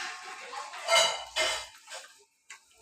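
A metal kadai set down on a lit stove, giving a few short clanks and scrapes of cookware, fairly quiet and close, with no talking.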